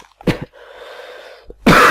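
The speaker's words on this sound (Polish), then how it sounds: "Musiałem kaszlać." A single short, harsh cough lands close to the microphone, with a brief exhale, a faint breath and a second burst around it.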